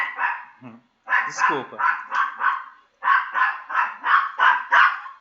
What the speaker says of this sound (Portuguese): Meu cachorro aqui tá perturbando.